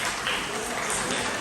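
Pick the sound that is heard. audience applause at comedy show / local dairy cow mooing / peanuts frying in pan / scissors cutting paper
audience applause at comedy show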